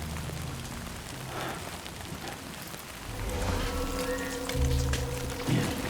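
Steady rain in the video game Death Stranding 2 hisses continuously, with a low rumble and tonal game sounds growing louder in the second half.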